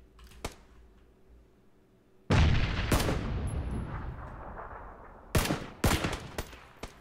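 Gunfire in the battle royale game PUBG: a sharp shot near the start, then a loud sustained burst with a long decaying rumble, followed by several more loud cracking shots near the end, with no talk.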